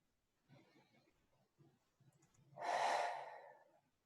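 A single long audible inhale and exhale during a guided meditation on grief and guilt, close and soft, preceded by quieter breaths, with no speech.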